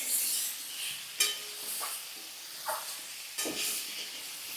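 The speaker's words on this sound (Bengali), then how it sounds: "দিয়ে এটাকে ভাজতে হবে যতক্ষণ না এটা একটু নরম না হয়" Vegetables frying in a pan over a lowered gas flame for a Bengali pui shak dish, a steady soft hiss broken by a few brief crackling bursts, close and fairly quiet with no talk.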